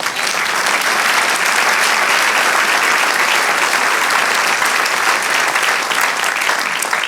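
A church congregation bursts into loud, unbroken applause, a thick, even wash of many hands clapping at once that holds steady from start to finish with no talk.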